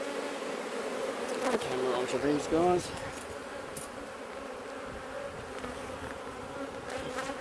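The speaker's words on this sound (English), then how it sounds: "I'm getting buzzed pretty severely, so some people say that's a good sign where you've got aggressive bees" Many bees from a strong, aggressive honeybee colony buzz steadily close by at an open hive during inspection, a dense droning hum, while someone speaks briefly over it.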